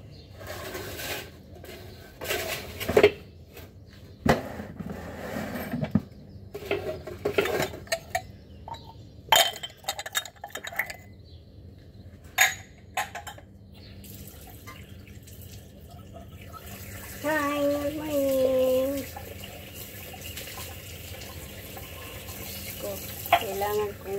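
Washing dishes at a sink, with plates and cutlery clinking in sharp, irregular knocks, dripping and running tap water, and someone talking over parts of it.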